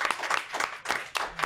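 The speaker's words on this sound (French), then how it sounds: "On peut applaudir Astral Internet" A studio audience claps in applause during a French-language talk show, with uneven bursts of hand claps swelling and dipping, fairly close and lively.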